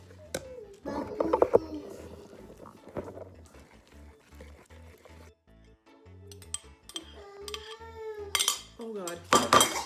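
Cutlery and dishes clink during pancake making from scratch in a home kitchen, with scattered metallic taps and clatters, some close and sharp, alongside a voice and other talk.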